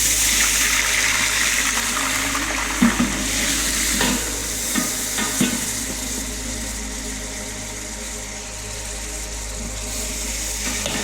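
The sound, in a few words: chicken sautéing with ginger and garlic in a pan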